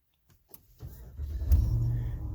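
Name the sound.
2020 Dodge Ram truck being turned on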